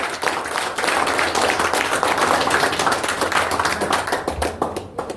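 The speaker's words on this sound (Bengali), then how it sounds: "একবার জোরে করতালি হোক" An audience at a motivational talk on the LIC agency profession bursts into loud, dense applause, sustained hand-clapping that fills the room for about five seconds before thinning out at the end.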